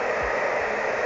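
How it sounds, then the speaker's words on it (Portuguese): A hair dryer blows steadily on very short hair being styled into curls, a close, loud and unbroken airy roar with no talking. "Depois você desliga o secador,"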